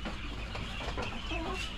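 Several mixed-breed chickens cluck steadily in a continuous, close-up jumble of farmyard noise with no talking.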